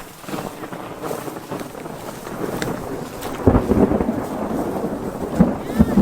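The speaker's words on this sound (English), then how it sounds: "We got a storm that's rolling in" Thunder rumbling from a storm rolling in outdoors, with rain and gusting wind noise on the microphone; a deeper roll swells around midway and heavier rumbles and thumps follow toward the end.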